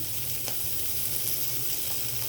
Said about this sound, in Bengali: আমি এর মধ্যে লঙ্কার গুঁড়ো দিলাম